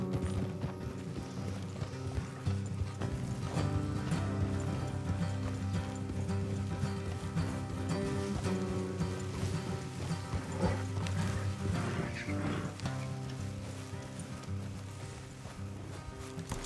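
Several horses clip-clop along a road in Red Dead Redemption 2, with a steady, even hoof rhythm carrying throughout at moderate volume beneath game ambience.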